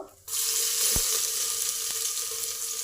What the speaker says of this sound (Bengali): রসুনটা ভাজা হয়ে এসেছে